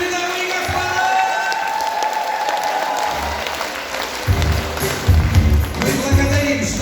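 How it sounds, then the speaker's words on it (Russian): Applause from an audience at an event, a sustained steady clapping crowd with low rumbling bumps and shuffling underneath, growing busier in the latter half. "Ваши аплодисменты!"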